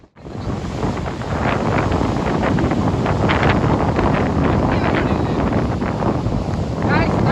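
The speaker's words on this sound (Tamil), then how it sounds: "செம்ம காத்து அடிக்கு, மழை பெய்யும், காத்து என்ன அடிக்கு." Strong wind buffets the microphone outdoors in a loud, continuous roar that holds steady throughout, with a voice partly audible beneath it.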